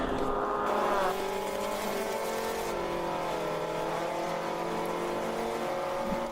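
A race car engine at Daytona during an endurance race revs and shifts gear, the pitch sliding irregularly as if from a clutch problem, loud and continuous with no talk.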